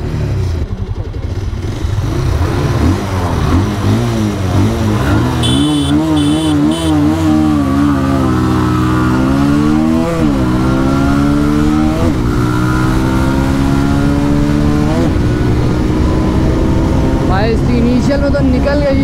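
Yamaha R15M and Bajaj Pulsar 220 SF motorcycles racing, engines loudly revving and rising through gears in a continuous drone with pitch sweeps, heard up close with wind roar; someone talks over it.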